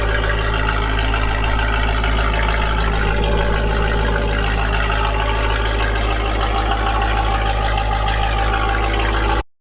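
Jeep Trackhawk with a 1000 hp V8, catless exhaust and E85 fuel, idling steadily with a loud, deep, lumpy burble and a constant low rumble that runs alone throughout.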